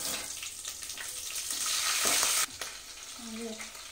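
Green chillies sizzle and fry in a pan with garam masala for veg pulav, a loud steady hiss that swells, then drops sharply, followed by softer crackling and a brief scrape of stirring.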